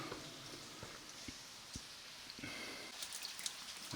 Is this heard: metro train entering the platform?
no